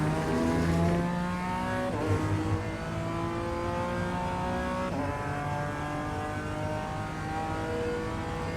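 A BMW M4 G82 GT4 race car in the iRacing sim at Circuit Zolder downshifts to third gear under braking. The engine note drops and then blips upward with each shift, loud and close, with no talking.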